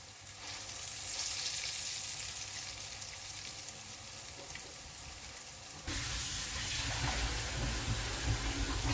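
Quarkkeulchen, German potato pancakes, frying in a pan with a constant close sizzle that swells suddenly louder and brighter partway through, no voices.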